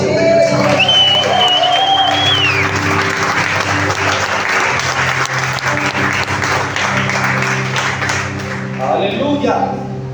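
Church congregation applauding steadily for about ten seconds during a sermon, a dense wash of clapping over sustained musical tones and occasional voices.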